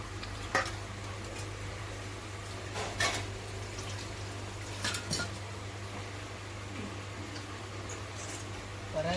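Chicken saaru ingredients fry in a pan, with a low steady sizzle and occasional scraping stirs, moderately close and fairly quiet, with no talk over it.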